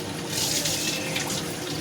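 Dal lentils get washed in a pan of water, a continuous close sloshing and trickling rush that holds steady throughout.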